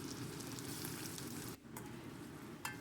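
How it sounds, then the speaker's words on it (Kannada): Chopped onion frying in a pan after mustard seeds and cumin, a steady soft sizzle that runs throughout, briefly dipping before resuming, with no talk over it. "ಈರುಳ್ಳಿ ಹಾಕಿಬಿಟ್ಟು ಅದನ್ನು ಸ್ವಲ್ಪ ಫ್ರೈ ಮಾಡಾಕತ್ತೀನಿ."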